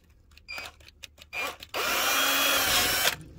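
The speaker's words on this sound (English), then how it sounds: "I can just drill in the pilot hole where it's going to go" A power drill whines in a couple of short bursts, then runs steadily for over a second as it bores a pilot hole in an RV storage compartment, close and loud.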